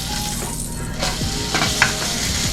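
French toast fries in butter in a non-stick pan, a steady crackling sizzle with a few soft scrapes and taps as the bread is moved around.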